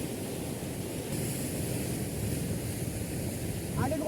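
Sea waves washing against rocks on a rocky shore, a steady broad rushing surf with wind noise throughout.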